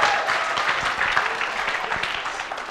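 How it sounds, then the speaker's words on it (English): An audience at BronyCon 2016 claps and applauds loudly for a few seconds, a dense, even burst of many hands. "Round of applause."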